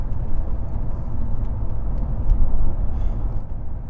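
A Mercedes-Benz CL65 AMG accelerates hard on a country road, a loud, close, deep engine roar that swells steadily and stays strong for a few seconds.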